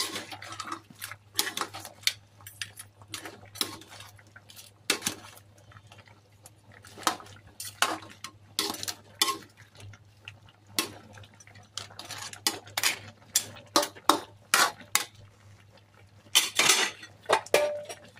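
Clattering metal cookware in a kitchen as a lid goes onto a cooking pot of shrimp and crab in sauce, with repeated sharp clinks and knocks of utensils scattered throughout.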